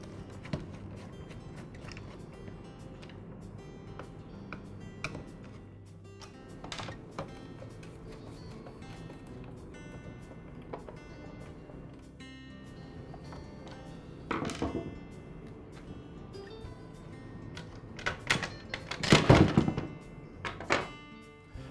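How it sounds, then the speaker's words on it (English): Fasteners are removed from the hand grip of a Toro 51443 string trimmer: scattered small clicks and plastic knocks, with sharper clattering bursts toward the end, close and fairly quiet. "I'll get started by removing the hand grip. It's held in place with a series of fasteners."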